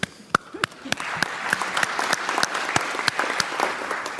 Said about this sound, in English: Yes, applause is appropriate for Kerry.